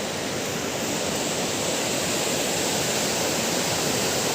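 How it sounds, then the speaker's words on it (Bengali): A waterfall in the Sikkim hills near Namchi roars steadily and close, a dense unbroken rush of falling water with no voices over it. "ঝর্ণার আওয়াজ"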